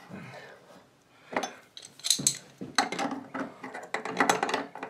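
A screw cap being tightened back onto a Delta two-handle bathroom faucet during a leak repair, giving close, soft metallic clicks and ratcheting scrapes in short irregular bursts.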